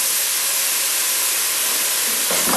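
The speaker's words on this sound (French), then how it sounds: "Maintenant, je vais flamber ça. Le cognac d'un seul coup." Cognac flambéed all at once over a crayfish bisque, a loud, close, continuous hissing whoosh of flame and sizzling liquid that swells sharply near the end.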